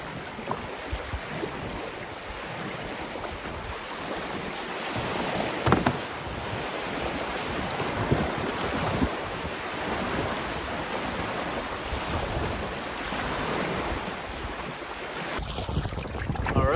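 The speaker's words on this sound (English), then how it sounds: "the waves that I've been fighting this entire time" Steady rushing lake waves and gusting wind fill the air around a solo canoe on an Algonquin Park wilderness trip, a loud continuous wash with occasional wind buffeting on the microphone and no talking.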